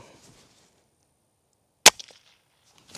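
A single sharp, quiet crack of a .22 rifle shot through a Dead Air Mask suppressor with the bolt held closed, brief and snappy, followed by faint rustling in otherwise near silence.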